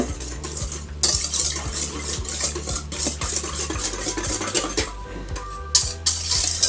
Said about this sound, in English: I'm going to just whisk this together till it comes,